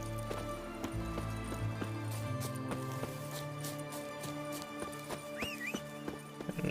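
A horse's hooves clop in quick galloping rhythm in The Witcher 3, a steady patter against a bed of game music and ambience, with a brief whinny near the end.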